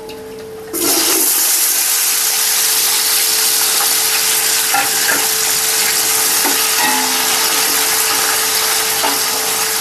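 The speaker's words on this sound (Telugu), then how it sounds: "ఇప్పుడు ఆనియన్స్ అయితే వేసుకుంటున్నానండి" Onions tipped into hot oil with spices for Andhra-style chicken biryani, a sudden loud burst of sizzling that settles into a steady, close frying hiss with occasional stirring knocks.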